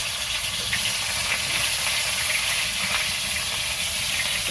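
Fish fry in a pan in a wedding-house kitchen, giving a steady, close, unbroken sizzling hiss with faint background clatter.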